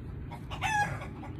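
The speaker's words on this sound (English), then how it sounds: "Did the chicken really cross the road?" A rooster crows once in a brief high call, with low background noise and faint clucking-like sounds around it.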